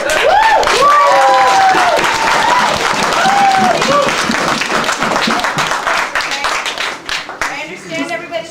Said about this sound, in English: if we could please hold the applause till everybody's done, I'd really appreciate it